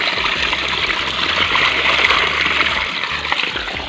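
Water pours and splashes steadily into a garden bed being dug for mehndi cuttings, a loud continuous rushing with no break.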